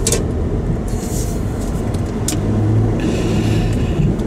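A 2022 Cadillac CT4-V Blackwing sedan's twin-turbo V6 accelerating hard, a loud steady engine drone with road and wind noise from inside the cabin.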